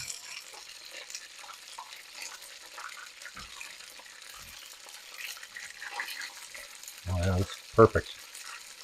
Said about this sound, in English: Just let this cook. I'm going to give it a quick stir.